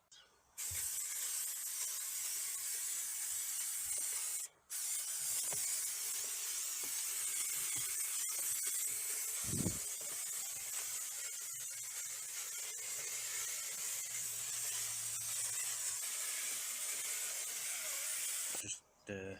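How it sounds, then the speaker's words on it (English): Spray can of carpet adhesive applied to wood and carpet in a micro campervan build, a long continuous close hiss in two sustained bursts separated by a brief pause, with a faint knock midway. "I'm going to use spray carpet adhesive straight on"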